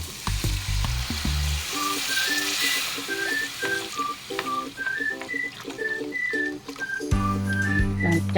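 Coconut milk sizzles and bubbles in a hot pan while cooking ginataang sigarilyas, a constant frying hiss with stirring clatter, a few low thumps near the start and end, and faint whistling tones throughout.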